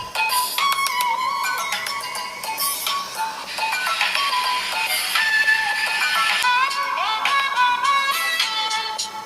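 Outside its box, the speaker of an Asus Zenfone Max Pro M1 plays a continuous melodic tune with bright, busy tones at a steady level throughout.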